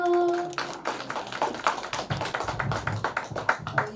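Scattered audience clapping at a Korean singers' association ceremony, building into loose, uneven applause from a nearby crowd with no talk over it.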